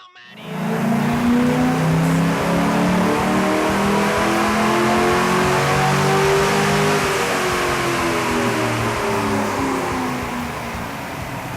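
A car engine revs hard and continuously through a tuning run with an airflow meter, its loud, sustained note climbing and then easing slightly, with no voices.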